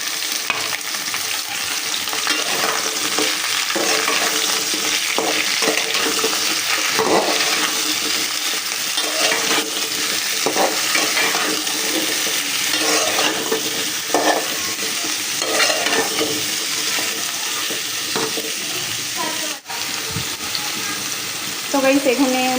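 Vegetables go into hot oil already tempered with onion, garlic, black cumin and a dried chili, producing a steady, continuous sizzle with scraping and stirring noises throughout, and a quiet voice is heard occasionally.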